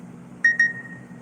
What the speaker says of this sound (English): It said beep beep.